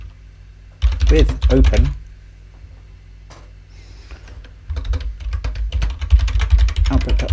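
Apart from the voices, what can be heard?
typing on a computer keyboard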